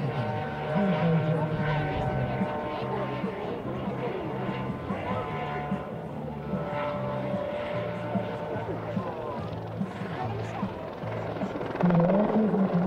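A Eurocopter EC-120 helicopter at an air show, its rotor thumping in a steady, rapid rhythm with a turbine whine, loud and close, continuing throughout.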